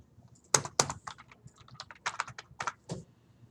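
Typing on a computer keyboard: irregular bursts of sharp clicking keystrokes, close and distinct, with brief pauses between clusters.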